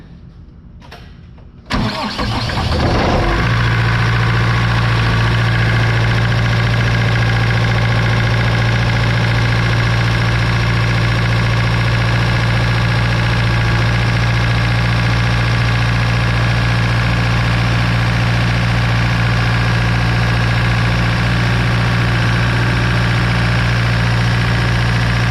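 Vehicle engine cranking briefly, catching and settling into a loud, steady low idle that runs for over twenty seconds, heard close and alone.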